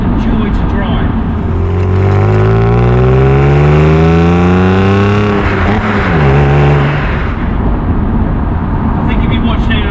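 An Alpina Roadster S with a re-engineered 3.4 engine accelerates hard, a loud, close engine note rising steadily in pitch before a brief drop and recovery, then settling.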